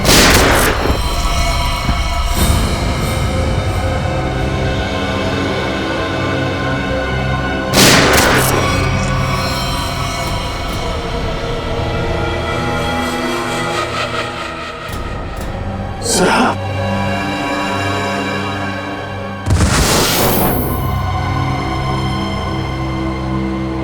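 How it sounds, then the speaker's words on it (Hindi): Loud sharp gunshot bursts in a Hindi TV crime drama, a handful of isolated booming shots spaced several seconds apart over a dense score, with tense voices talking between them. "गोली चलाओ उस पर, चलाओ, चलाओ गोली।"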